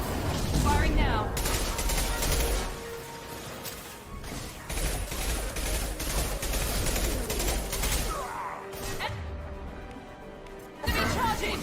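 Gunfire crackles through a Mass Effect 2 firefight on Omega, rapid bursts and impacts layered over a dense game soundtrack, with a voice talking in between.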